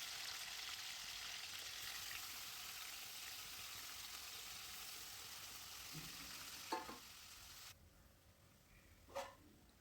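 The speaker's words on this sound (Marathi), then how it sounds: "तेल आता कडकडीत चांगलं गरम झाल्यानंतर आपण आता ह्याच्यामध्ये चिकन टाकून घेऊयात" A steady hiss of chicken pieces frying in very hot oil fills most of the clip, then drops away, followed by a couple of faint clatters.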